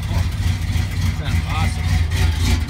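A Chevy truck diesel engine runs rough right after a cold start at 3 degrees, a loud, steady low rumble with slight wavering in pitch, close by, with voices over it.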